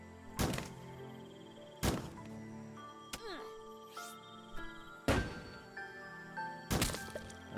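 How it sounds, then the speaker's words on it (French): Shotgun fired in the Starbound video game: about six sharp, punchy blasts at irregular intervals, with faint electronic game tones ringing between shots. "On va voir ce que ça donne le fusil de chasse."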